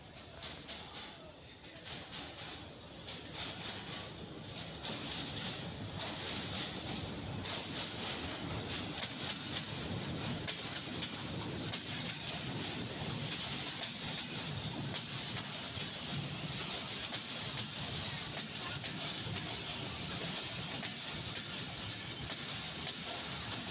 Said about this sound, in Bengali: কিছুক্ষণ অপেক্ষার পরে আমাদের ট্রেন চলে আসলো স্টেশনে।